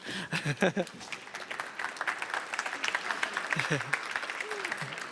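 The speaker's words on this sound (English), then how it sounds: "if you could give Ethan a small round of applause, I'd appreciate that" A small round of applause from a lecture audience at a talk on human enhancement, soft and fairly distant, a light patter of clapping with voices and a chuckle over it.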